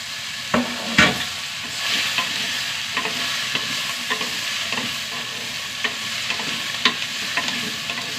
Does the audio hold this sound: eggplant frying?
yes